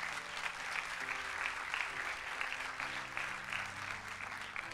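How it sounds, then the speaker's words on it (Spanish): Sustained applause from a church congregation during a sermon, a dense steady clatter of many hands at moderate distance, with a faint voice or organ tones underneath. "¿Le puede dar un fuerte aplauso a Dios por eso?"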